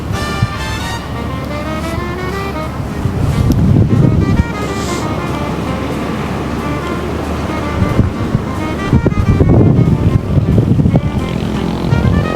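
Steady outdoor wind rushing and buffeting at the Pililla windmills in Rizal, broad and loud, with surges around the middle and later on, with no one speaking.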